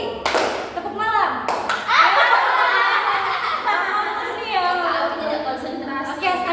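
A group of children claps along in a concentration clapping game, short bursts of hand claps broken by laughter and a leader calling out the rounds.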